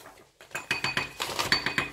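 A spoon stirs a cornstarch mixture in a bowl, a series of quick, fairly close clinks and scrapes against the bowl in a steady rhythm with no talking.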